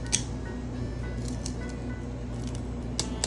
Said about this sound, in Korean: 먼저 지느러미들을 잘라줍니다